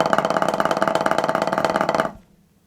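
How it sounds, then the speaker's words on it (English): A snare drum buzz roll played forte, a dense, even stream of rapid bounces sustained for about two seconds, then cut off abruptly and left to ring out briefly, close and alone. "Remember the buzz roll or the multiple bounce roll, the press roll"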